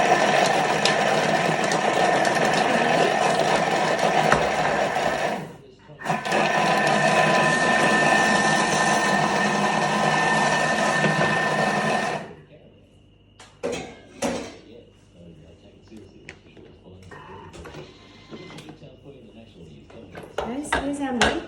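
Dry ingredients with mixed spice and cinnamon being mixed by a loud electric mixer that whirs steadily, cuts out briefly, runs again, then stops, followed by scattered clinks and scrapes against the bowl.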